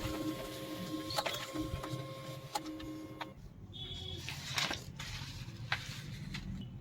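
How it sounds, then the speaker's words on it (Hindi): A Pantum M6500-series laser printer runs off a report page, its motor whirring steadily under sharp clicks and ticks of paper feed, with a brief pause in the mechanism midway before it resumes. "अब मैं आपको फिर से एक बार रिपोर्ट पेज प्रिंट करके दिखाता हूँ"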